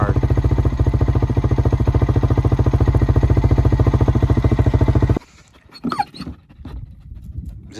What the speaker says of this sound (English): Is this how we know our dog has some bite?